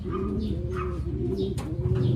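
Racing pigeon cooing in low, throaty repeated calls, close and steady, with faint chirps and rustling from other birds around it.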